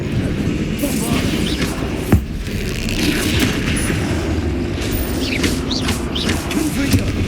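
Spell explosion from a Bombarda cast in the Hogwarts Legacy PC game, a dense, loud, rumbling blast with a sharp crack near the middle, set among continuous combat effects and shouted incantations.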